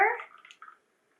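A cocktail is poured from a small shaker over a couple of small ice cubes, a brief close liquid splash and trickle lasting under a second before silence.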